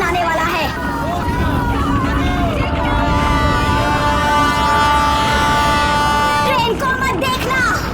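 A train passes close by amid crowd babble, its long steady horn blaring loudly for several seconds over the rumbling of the cars and the chatter of people nearby.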